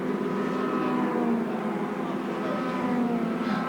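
A pack of 1987 Formula Ford race cars runs nose to tail, with steady, layered engine drones holding a constant roar and no clear pass-by, partly under a commentator's voice.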